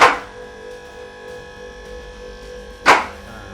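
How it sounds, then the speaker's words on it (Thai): Two sharp metallic clacks from a car lift's safety lock engaging, one at the start and another about three seconds later, over a steady low mechanical hum. "นี่คือระบบเซฟตี้ นี่คือเสียงของตีล็อกครับ"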